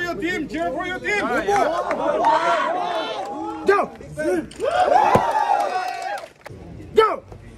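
A crowd at a street fitness event yells and chants for teams, with overlapping shouts and cheers in loud bursts that rise and fall nearby.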